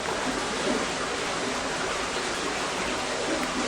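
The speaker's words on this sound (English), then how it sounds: "If you listen closely, you can hear the water rushing underneath my feet" Water rushes underground beneath a cave floor at Lost River in North Woodstock, New Hampshire, a steady broadband roar, fairly faint and continuous, with no talk.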